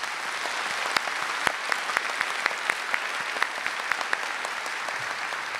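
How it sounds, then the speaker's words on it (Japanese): Audience at a panel discussion on water management in megacities giving steady applause for the panelists, an even wash of clapping with a few sharp individual claps standing out. "皆様盛大な拍手を送りたいと思います"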